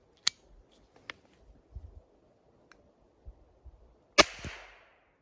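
A cheap steel SEM RS 1.0 Flobert revolver is fired two-handed at a 7.5-metre target. A few sharp, isolated clicks and cracks are followed by one louder, close report with a brief ringing tail, separated by quiet gaps.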